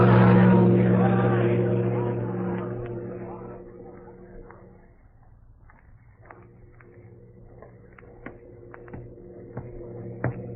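A boat departs in a 1941 radio drama: a loud engine rumble with a steady low drone swells at first, then fades over about four seconds into quiet, broken by faint scattered creaks and knocks.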